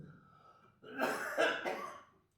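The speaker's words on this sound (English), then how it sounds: "I should have left it till the end to cough." A few harsh coughs and throat-clearing bursts from a singer on stage at a festival, close and fairly loud, after a quieter breathy lead-in.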